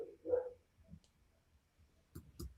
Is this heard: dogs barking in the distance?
yes